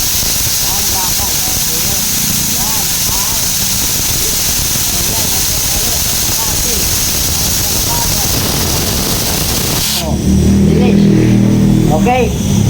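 A loud, steady oxy-acetylene torch roars and hisses on steel throughout, with someone talking over it; near the end the flame's tone shifts to a deeper, rougher rush.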